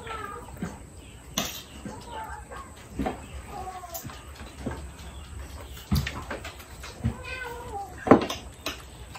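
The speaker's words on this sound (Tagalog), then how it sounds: "Mga pusa namin dito, ang gugulo." Several cats meow repeatedly at close range, some cries rising and falling, with brief knocks and clatter in between.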